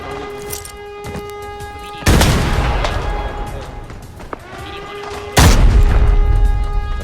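Two heavy blasts from grenade explosions in the video game Arena Breakout, each a sudden loud boom with a long rumbling tail, amid scattered gunshots and steady game background tones.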